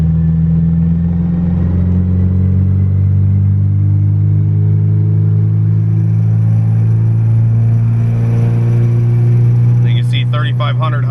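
A turbocharged Honda Civic EG hatch with an LS Vtec engine revs on a dyno, its loud engine tone climbing steadily toward about 4,000 RPM while someone talks over it.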